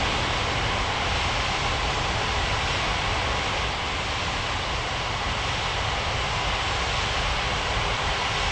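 A video-game airliner on approach to land at Springbrook Airport gives off a steady, broad jet-engine roar. It stays constant and fairly loud throughout, with no voices.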